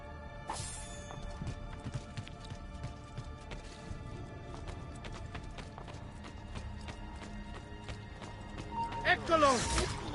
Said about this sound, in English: For anybody that's wondering where that horse noise was coming from, it's right here.